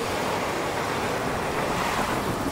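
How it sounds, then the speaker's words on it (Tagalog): Strong typhoon wind and surf roar together as a dense, continuous rush of wind and breaking waves, loud and unbroken throughout. "Habang tumatagal, lumalakas nga si bagyong Christine."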